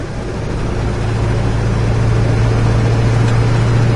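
A 1968 Chevrolet Chevelle drives down the road, its engine holding a steady, close drone with a low hum that firms up after the first second and carries on without any talk.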